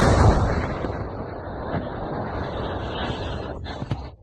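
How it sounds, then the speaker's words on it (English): A large explosion at a port in St. Petersburg, heard as a sustained, loud, rumbling roar of blast noise that holds steady for several seconds before cutting off abruptly. "Whoa, that was a hell of a blast."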